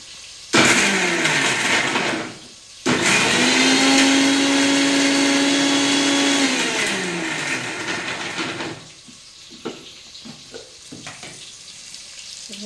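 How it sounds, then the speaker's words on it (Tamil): A mixer grinder jar whirs loudly as it grinds garlic and ginger, starting with a short burst, pausing briefly, then running in a long steady drone before cutting off, followed by a few faint knocks and handling sounds. "பூண்டு இஞ்சி மிக்சி ஜாரில் போட்டு எடுத்துட்டேன்"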